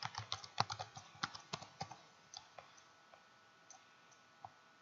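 Computer keyboard keys click in quick bursts of close, crisp taps while a name is typed, then thin out into a few scattered keystrokes with pauses between them.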